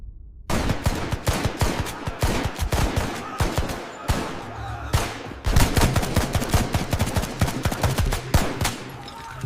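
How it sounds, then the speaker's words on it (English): Loud, rapid bursts of automatic gunfire rattle nonstop in dense volleys, with overlapping shots and short gaps, during a terror attack on a hotel in Mumbai. "And then, gunfire."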